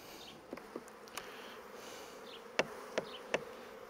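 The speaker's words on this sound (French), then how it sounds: "Les 3 abeilles qui s'envolent mais qui retournent immédiatement dans leur ruche" A few short honeybee buzzes pass close by as bees fly from a hive, three louder ones near the end, over a quiet outdoor background hum.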